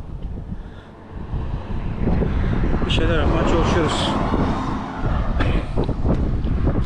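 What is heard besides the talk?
strong wind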